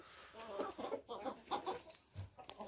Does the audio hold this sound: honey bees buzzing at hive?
no